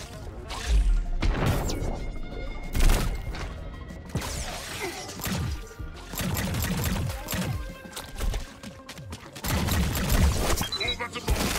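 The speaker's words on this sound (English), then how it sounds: "Oh, that's a bomb." Explosions and heavy impacts in the sci-fi shooter game High On Life, a chaotic run of booms, smashes and crackling blasts spread through the fight, loud and close, with a voice briefly heard.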